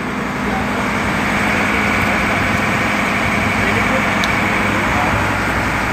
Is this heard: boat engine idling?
yes